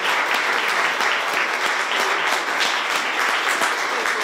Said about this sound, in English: We're going to give her a big round of applause